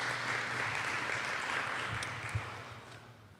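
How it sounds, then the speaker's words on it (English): Audience applauding at a community update meeting on strategies to address gun violence, a moderate steady patter of clapping that slowly tapers, with no talking over it. "I want to give her a round of applause for working that out for us"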